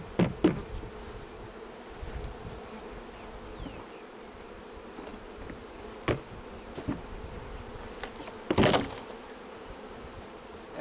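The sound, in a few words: honeybees buzzing during hive frame transfer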